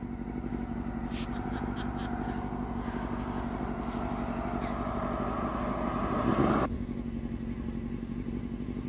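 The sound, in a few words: truck passing on road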